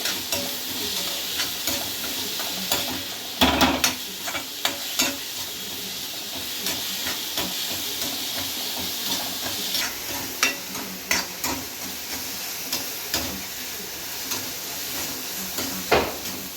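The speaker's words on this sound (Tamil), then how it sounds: "வெங்காயம் பொன்னிறமாக வதங்கிடுச்சு பாருங்கள்" Salted onions fry until golden in a pan, a steady sizzle broken by frequent clinks and scrapes of a spoon against the metal as they are stirred.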